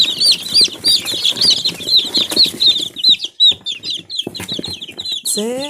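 Amrox chicks cheep in a rapid run of high chirps, close and loud, with a little fluttering and rustling mixed in and a brief rising squeak near the end.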